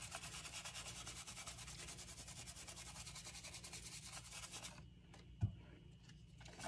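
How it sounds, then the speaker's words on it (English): Gilding leaf being rubbed off seashells, a steady close dry sanding-like scrubbing that runs continuously, then stops with a single soft knock and quieter faint handling. "But as you start rubbing it off,"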